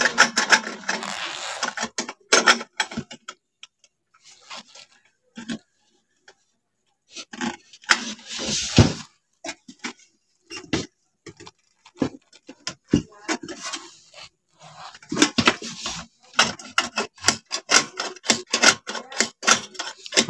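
Spring mechanism of a rice cooker tested by hand during repair, giving repeated sharp mechanical clicks and clacks in bursts with pauses, close and moderately loud.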